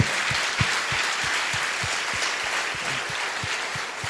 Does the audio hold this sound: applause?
yes